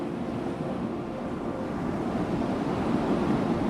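Ocean waves breaking on the shore make a steady, broad wash of surf that grows slightly louder toward the end, heard alone with no voices.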